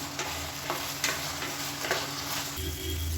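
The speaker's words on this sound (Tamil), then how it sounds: "இப்போ சோயா உருளைக்கிழங்கு நல்லா ஃப்ரை ஆகிடுச்சு." Soya chunks and potatoes fry in oil in a pan, making a steady close sizzle broken by several spoon stirs and scrapes, with no voices.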